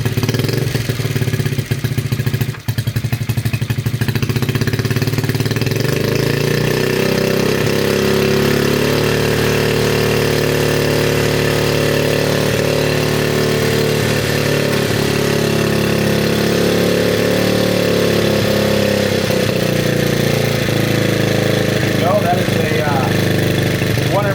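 A restored 1972 Honda Trail 70 small-displacement engine idles steadily after a single kick start, a loud, close, even putter with a faint mechanical tick that holds throughout.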